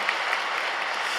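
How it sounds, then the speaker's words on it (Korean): Congregation at a Wednesday service at Yoido Full Gospel Church applauding, a dense, even roar of clapping from a large indoor crowd, sustained and close. "여러분, 박수 한번 합시다."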